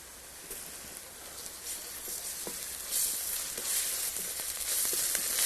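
Onions frying in a pan for a classic chicken curry, a constant bright hissing sizzle that swells a little louder halfway through, with faint stirring taps and no speech.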